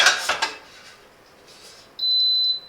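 Metal clatters briefly as the pan is pulled out of a Silvercrest SHFG 2460 A1 smart air fryer with grill, followed by a short high electronic beep after a quiet pause.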